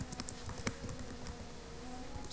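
Commands are typed on a computer keyboard as a quick, irregular patter of light key clicks. The clicking is faint and close, with a soft electrical hum underneath and no speech.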